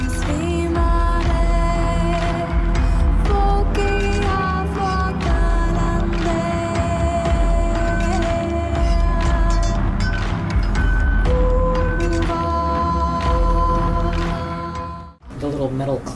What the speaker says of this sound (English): The little metal clanks, the industrial sounds.